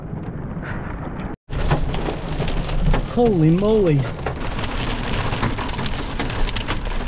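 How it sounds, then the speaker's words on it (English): Rain and hail fall hard around a couple out foraging for morels, a dense continuous patter with a brief dropout, while they talk and exclaim over it. "Got caught in the rain and hail."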